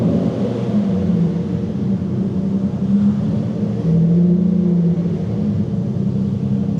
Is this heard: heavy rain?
no